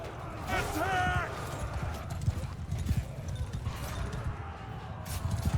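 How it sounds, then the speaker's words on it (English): Cavalry horses galloping in a Mount & Blade 2: Bannerlord battle: dense, rapid hoofbeats with a horse's whinny early on, while battle noise and shouting voices sit underneath. "Horses!"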